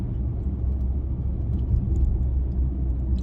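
A car passes on the road, giving a steady low rumble and tyre roar that stays close and even for the whole stretch, with no one talking.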